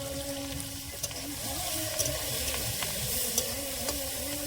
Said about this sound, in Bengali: তেলের মধ্যে 5 ফোড়ন দিয়ে দেবো, পেঁয়াজ কুচি, চেরা কাঁচা লঙ্কা